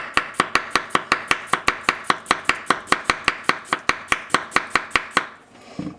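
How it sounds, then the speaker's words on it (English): Quick, steady chopping of a carrot with a Richmond Kohetsu 210 mm AS gyuto knife, roughly twenty-five crisp blade strikes on the board in even rhythm, close and loud, ending in a brief scrape. "So let's just do some just chopping"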